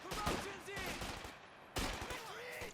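Bursts of gunfire from BAR rifles and Thompson submachine guns crackle in the Company of Heroes 2 strategy game as a lieutenant advances on Grenadiers, rapid and fairly faint, overlapping a commentator's voice.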